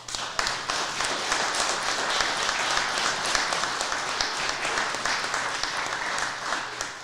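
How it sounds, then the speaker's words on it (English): Audience at a Texas Tech baseball signing event breaks into steady, sustained applause, a dense wash of many hands clapping continuously for about seven seconds, with a few faint voices underneath. "Big round of applause, folks."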